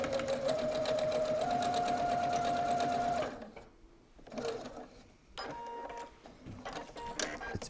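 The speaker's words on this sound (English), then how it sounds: "we're gonna do the same thing and sew an 1/8 of an inch seam to attach those together" A sewing machine sews an eighth-inch seam, its rapid whirring stitch running loud and steady with a rising motor whine for about three seconds, then stopping, followed by quieter handling sounds and brief bursts.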